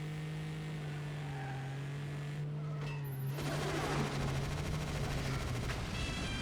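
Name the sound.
machine gun fire in the video game 007: Agent Under Fire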